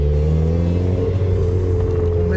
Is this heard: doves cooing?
no